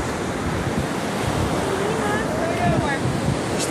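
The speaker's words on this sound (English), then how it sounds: "We're in the San Diego Beach in El Salvador." Ocean surf washes steadily onto San Diego Beach in El Salvador, a constant broad roar of breaking waves with wind buffeting the microphone and faint sounds in the background.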